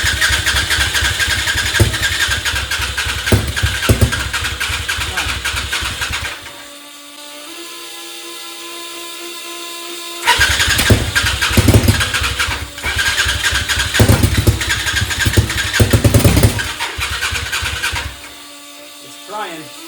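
A 1000cc motorcycle engine in a go-kart, run without coolant, cranks and catches, revving roughly and loudly up close. It drops to a low idle for a few seconds, then revs hard again before cutting out.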